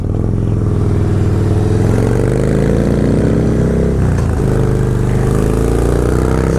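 A 650 motorcycle engine accelerates, a loud, close, continuous roar that pulls steadily through the revs with a brief dip partway through before building again, alone without talk.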